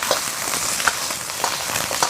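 Pork ribs fry in rapeseed oil in a wok with a steady, loud, close sizzle and a few sharper pops and spatters, with no talking.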